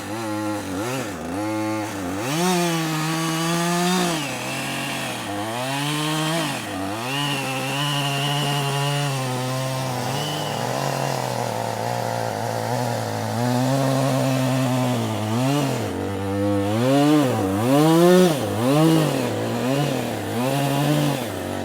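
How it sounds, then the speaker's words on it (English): A chainsaw cuts steadily into a tree trunk being roughed out for a wood carving beside Lake Brienz, engine pitch rising and falling as it revs through the wood, loud and close throughout. "they are already sawing noisily so that the first shape comes out of the tree"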